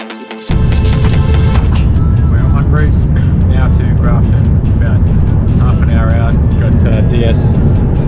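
A car drives in a convoy behind a road cycling race team, a loud continuous road and engine roar with wind buffeting, and voices talking inside the cabin.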